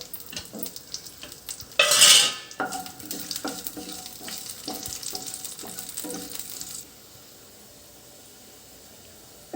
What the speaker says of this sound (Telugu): ఇలా మిక్సీ పట్టుకున్న గోంగూర పచ్చడిని తాలింపు వేసుకోవాలి వేసుకొని బాగా పైకి కిందికి కలుపుకోవాలి